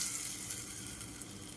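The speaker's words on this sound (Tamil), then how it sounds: "எண்ணெயில் வெறும் சீரகம் மட்டும் தாளித்து இப்போ இந்த சட்னியில் கொட்டிடலாம்" Cumin seeds tempered in hot oil are poured into a raw onion chutney, giving a soft, continuous hiss of sizzling that stays even and fairly faint.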